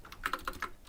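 Keys clatter on a computer keyboard in a quick run of about six clicks, close and fairly quiet, with no talking over it.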